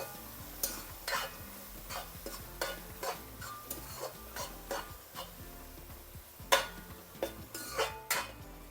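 Chopped tomato, coriander leaves and mint saute in a pan, a quiet sizzle under repeated sharp scrapes and taps of a spatula stirring at an irregular rhythm, with no one talking.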